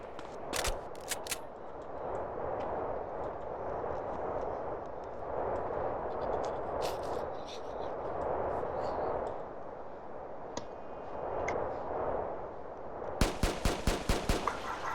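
Bursts of gunfire in the video game MTA DayZ crackle over a steady rumbling background, ending in a rapid string of sharp shots near the end.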